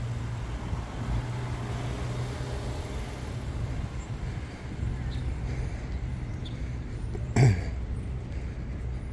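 A parked Asbury Park police car's engine idles with a quiet, steady low hum and faint background noise. A single brief click or knock sounds near the end.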